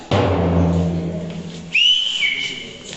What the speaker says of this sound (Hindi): गाड़ी चलाते वक्त लड़की को देख के सीटी बजाते हो